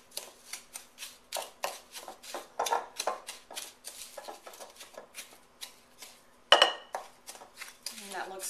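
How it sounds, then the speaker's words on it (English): A spoon is stirred through melted butter and brown sugar in a bowl, making quick, rhythmic clinks and scrapes against the bowl, close and fairly quiet, repeating steadily with one sharper knock near the end. "we're going to stir this together until it's thoroughly incorporated"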